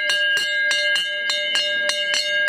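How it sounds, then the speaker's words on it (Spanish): A bell rings to call passengers aboard a tourist train at the foot of Coca castle, a rapid run of bright, ringing strikes repeating steadily for a couple of seconds, loud and close. "A la llamada de la campana y con el pasajeros al tren"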